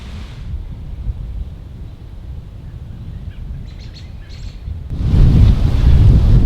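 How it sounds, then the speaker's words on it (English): Evening wind blows outdoors at a whitetail deer hunting stand in Nova Scotia: a low, rough rumble buffets the microphone, with faint chirps in between, then swells into a much louder gust near the end. "The wind's perfect tonight, just blowing right into my face, so perfect wind for here."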